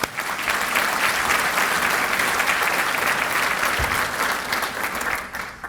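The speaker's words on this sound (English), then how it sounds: "give all of our sponsors a big round of applause." An audience at a city State of the City event applauds the sponsors with dense, steady clapping that fills the whole stretch without a break.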